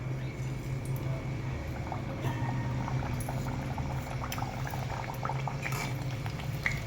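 Fasting-style puri frying in hot oil gives a steady, close bubbling sizzle throughout, with faint splashes and crackles on top.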